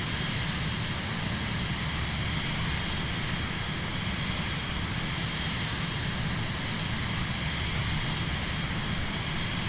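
A jet engine drones steadily inside a jet flying a southwest leg in Microsoft Flight Simulator, a loud constant broadband roar with no variation.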